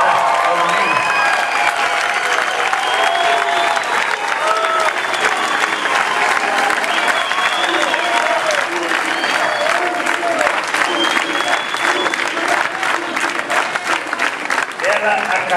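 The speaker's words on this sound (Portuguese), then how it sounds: "aqui eu também quero palmas" Sustained audience applause at the X MERCOSUR Summit in Foz do Iguaçu, loud and steady throughout with a little crowd noise and a voice speaking over it.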